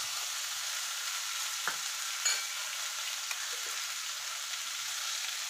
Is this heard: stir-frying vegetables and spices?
yes